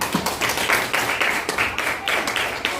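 Schoolchildren clapping together in a classroom, a rhythmic series of unison claps in a steady beat, fairly close and clear with no talk over it.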